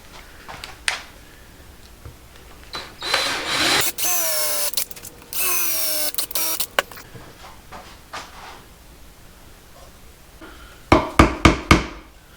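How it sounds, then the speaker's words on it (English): A power drill whines in two bursts of a few seconds each, drilling holes in a wood slice, followed later by several sharp taps or knocks close by. "And then I'll drill some armholes here for them."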